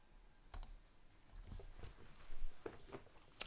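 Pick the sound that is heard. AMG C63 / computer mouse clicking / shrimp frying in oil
computer mouse clicking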